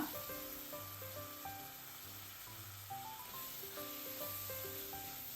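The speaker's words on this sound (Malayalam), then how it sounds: "അതിനുശേഷം തക്കാളി കട്ട് ചെയ്തത് ഇട്ട് കൊടുക്കുക" Chopped tomatoes hit a hot pan of oil and curry leaves for Kerala-style sardine curry, giving a steady, close, even sizzle that runs throughout with soft tonal background music.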